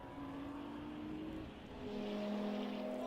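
Sixties race cars cross the start-finish line at Snetterton circuit, a faint, distant engine whine whose pitch shifts as the cars swell and pass partway through.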